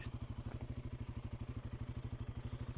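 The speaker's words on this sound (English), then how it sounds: "take a little ride this morning on the old Royal Enfield Himalayan 450" A Royal Enfield Himalayan 450 single-cylinder motorcycle engine thumps in a fast, even pulse while riding, close and steady throughout with no talking.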